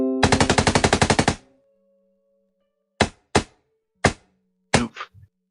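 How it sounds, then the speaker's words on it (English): Automatic gunfire sound effect played during a Cyberpunk RED tabletop roleplaying session: a rapid, loud burst of about a dozen shots, a pause, then several separate single shots, with no talk over them. "We're gonna hit that auto fire."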